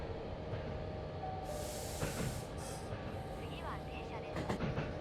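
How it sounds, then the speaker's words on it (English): A train passes in the Running Train video game, with a steady rumbling rail roar, a burst of hissing air partway through and clattering near the end, and a voice talks over part of it. "Look how beautiful the train looks over there, passing us on the right side."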